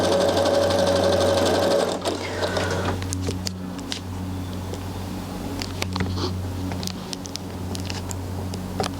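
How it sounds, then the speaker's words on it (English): A sewing machine stitches pink fabric, a loud close whirring run for about two seconds, then quieter intermittent stitching and clicks over a steady hum. "I decided to start sewing only the pink ones."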